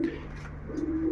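Paired racing pigeons coo nearby, a low continuous throaty purr that swells into a steadier coo toward the end.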